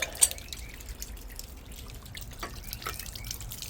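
Water dripping and trickling while flux is washed off copper pipe fittings during a pressure reducing valve install, with scattered faint drips and one sharper splash near the start.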